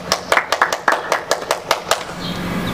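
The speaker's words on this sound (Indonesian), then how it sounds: "Tepuk tangan buat Tuhan Yesus." Children clap their hands in a church service: a burst of about a dozen quick, fairly loud claps in an uneven rhythm over roughly two seconds, then the clapping fades into room murmur.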